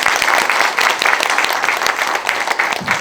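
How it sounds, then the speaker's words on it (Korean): Church congregation applauding at a New Year revival service, dense continuous clapping from many hands filling the room at close range, loud and sustained for the whole stretch without a break. "박수로 모십시다"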